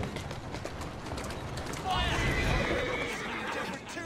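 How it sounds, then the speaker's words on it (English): Horse from the Assassin's Creed Syndicate video game gives a loud whinny over galloping clip-clop hoofbeats, with people talking throughout. "I like how you jumped off the cyber horse"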